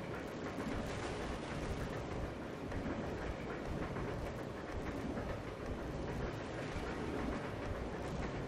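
A moving train in the video game Resident Evil 0 HD rumbles continuously, a steady loud roar of wheels and carriage noise with rhythmic rattling and no speech.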